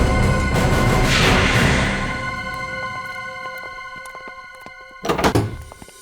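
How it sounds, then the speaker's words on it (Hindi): A door opens in an indoor scene from a crime drama. The latch clunks and the door swings with a short thumping burst near the end, over a sustained tonal background score. "मैं तो बस ये कचरा बाहर रखने के लिए दरवाजा खोला था"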